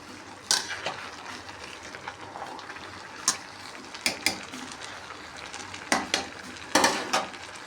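Chicken biryani being mixed in a pot, with a spoon scraping and clanking against the metal at irregular intervals over a steady low sizzle, close and moderately loud with no talking.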